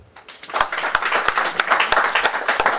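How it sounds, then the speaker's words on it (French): Audience at a Côte d'Ivoire press conference claps for speaker Keyi Baou, a brief burst of many hands with a few sharp, distinct claps standing out, close and moderately loud. "Je voudrais que vous applaudissiez Keyi Baou."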